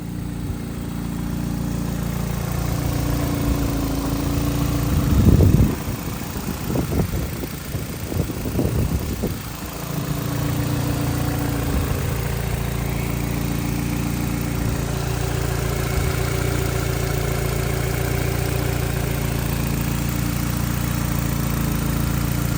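A 2002 Nissan Altima 2.5-liter engine idling after a head gasket replacement: a steady, even low rumble that holds for the whole stretch, with a brief louder clatter of handling noise near the start.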